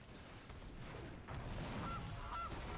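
The Gilded Goose card in the MTG Arena video game gives two short, faint honks in quick succession over a low game background rumble.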